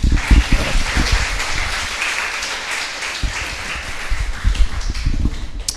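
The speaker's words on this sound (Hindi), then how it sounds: "आप पहले ताली बजा दो।" An audience claps together in a packed hall at a church gathering. The applause is steady and moderately loud, and scattered voices can be heard through it.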